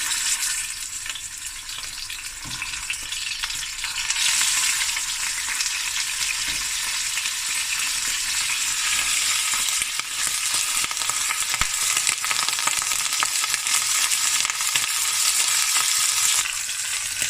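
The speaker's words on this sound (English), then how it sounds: "Okay, I've got my 4 lamb shanks that I put some salt on. Now we're gonna just brown it." Four salted lamb shanks brown in a frying pan with a loud, continuous close-up sizzle. The hiss grows fuller after the first few seconds and runs without pause, with no voices.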